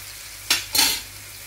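Pancit noodles being stirred and fried in a pan: two quick scraping sizzle bursts close by, the second one longer, over a quiet, steady background hiss.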